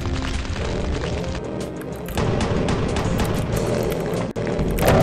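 Rocket explosions in Doom II on the Valiant map The Netweaver, played on fast difficulty: a dense, continuous roar of blasts. It swells louder partway through, briefly drops out, then surges again.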